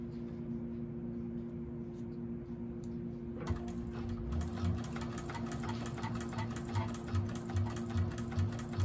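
A 1341 cylinder arm sewing machine stitches a bag in a steady, close, rapid run that starts after a few quiet seconds of low hum.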